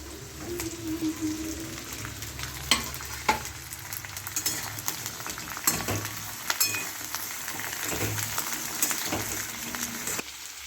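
Eggplant and beans sizzle steadily in a hot pan for a spinach mixed-vegetable chorchori, with occasional clinks and scrapes of stirring over the constant frying hiss.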